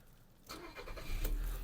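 A 2009 Skoda Octavia A5 with a 1.6 MPI petrol engine cranks and starts with the hood open, a brief starter whir rising into a steady idle rumble, close and fairly quiet.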